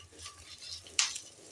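Spices fry briefly in a little oil left over from frying paneer for palak paneer, a quiet sizzle broken by a short sharp stir or scrape near the end.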